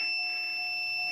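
A voltmeter gives a continuous high continuity beep while testing a good fuse in a Cobalt, a steady electronic tone held throughout, fairly faint.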